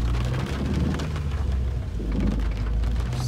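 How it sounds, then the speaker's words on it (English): Steady, dense rain pours throughout in Los Angeles, with a low rumble underneath, heard close and loud without any voices. "It's raining"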